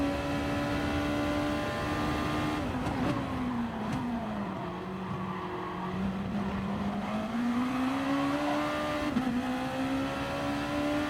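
Gr.2 race cars roar around the Red Bull Ring in GT Sport, one car spinning into the gravel, with a loud continuous engine drone whose pitch sags and climbs again as the car slows and accelerates.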